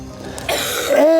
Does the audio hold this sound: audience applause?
no